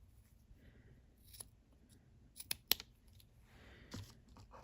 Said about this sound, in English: I'm grabbing my scissors and I'm cutting the thread cluster into 4 pieces.